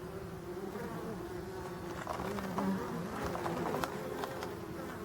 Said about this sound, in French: c'est l'abeille noire, bah, elle travaille tout le temps